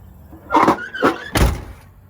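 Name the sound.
closing the door of a 1989 Camaro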